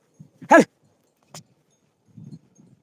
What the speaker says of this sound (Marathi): अशी कुत्री पाहिजे नुसते हाका मारली का आली मामाची कुत्री राणी